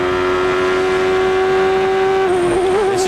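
Bobby Rahal's CART race car at Mid-Ohio in 1993, heard from onboard: a loud, high-pitched engine scream held steady, then an upshift near the end sends the pitch wavering and dropping.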